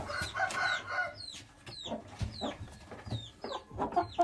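A flock of Malatya Arab hens and chicks clucks and squawks close by while a rooster crows among them, the calls overlapping in rapid, irregular bursts.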